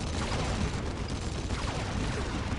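Sustained, dense gunfire from a mech's gun in the Dawn of War strategy game, a loud continuous rattle of rapid shots with no pauses and no voices.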